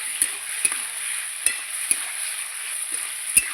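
Chicken stomach with spices sautéing in a pan, a steady close sizzle broken by about six sharp spoon or spatula knocks against the pan.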